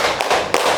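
Group hand claps during a concentration exercise, two quick sharp claps close together, near and crisp.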